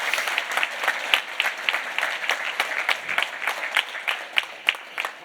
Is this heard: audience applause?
yes